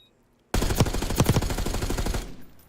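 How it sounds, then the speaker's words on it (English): Rapid bursts of automatic gunfire in a Call of Duty match, starting abruptly after a moment of near silence and rattling loudly for under two seconds before cutting off, with no talk. "But now gunfire attracts the attention of USF, and now they know where Glizzy is pushing"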